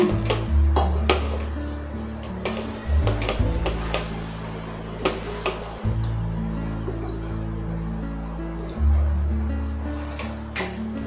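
Meal maker (soy chunk) masala is mixed by hand in a bowl with sprinkled water: repeated clinks and scraping against the dish over a steady low hum, with brief talk.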